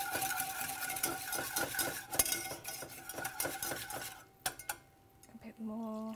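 A whisk clatters and scrapes briskly against a pan as milk is worked gradually into a béchamel sauce, making rapid metallic taps and stirring close by that pause near the end.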